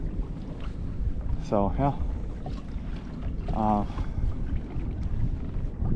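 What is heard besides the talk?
wind blowing while pedaling a Hobie PA 14 kayak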